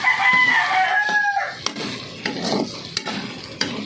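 Pork fries in its own rendered fat for dinuguan, with crackling sizzle and stirring scrapes of a utensil in the pan. A rooster crows faintly in the background at the start.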